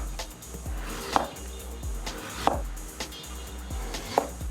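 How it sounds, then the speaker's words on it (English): Knife slicing a beetroot into very thin slices on a cutting board, firm rhythmic chops about once a second with a crisp crunch each, close and clear with no voices. "First, make a very thin slices of the beetroot."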